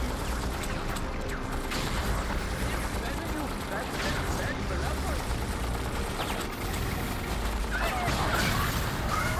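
Explosive shells fired at enemy flyers in Freaky Flyers keep up a steady stream of booms and crashes against busy game noise, while a voice talks over the action throughout.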